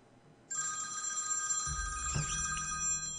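A telephone rings, its bright electronic trill starting abruptly and holding steady, with a low rumble joining partway through; nearby and fairly loud, with no talking.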